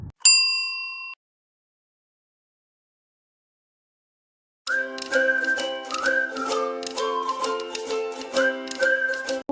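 A single bright bell ding rings and fades, followed by several seconds of silence before a tinkling, whistly melody begins.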